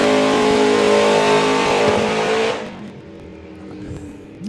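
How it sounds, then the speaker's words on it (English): A Toyota Supra drag racing car at a doorslammer event roars loudly at high revs for about two and a half seconds, then drops away to a quieter background rumble. "I'll say that Supra sounds hard as nails."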